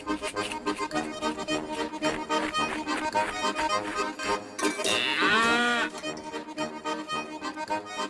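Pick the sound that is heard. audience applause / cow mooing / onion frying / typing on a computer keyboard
cow mooing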